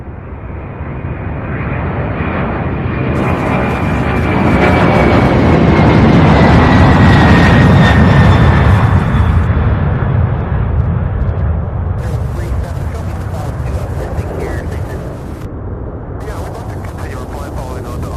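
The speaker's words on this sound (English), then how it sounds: "How about that takeoff, you guys?" A jet airliner takes off at Louisville's UPS Worldport, a loud, sustained roar that builds to a peak and then slowly fades as it climbs away, with faint radio chatter in the background.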